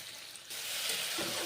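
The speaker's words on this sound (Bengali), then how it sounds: "এখন পটলের তরকারিতে কষে নিলাম" Pointed gourd (potol) curry with kasuri methi and salt is sautéed in a pan, and a brief hissing sizzle jumps louder halfway through and holds steady.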